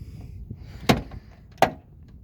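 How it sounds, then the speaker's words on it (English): Jeep Cherokee door with a worn, elongated door check, giving two sharp clunks about three-quarters of a second apart over a quiet background, close to the microphone. "My door check sounds horrible because my actual door check piece is all elongated"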